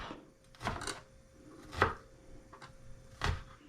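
Garlic cloves chopped with a knife on a cutting board: four distinct, spaced cuts, each a close, crisp knock against the board, with quiet between them.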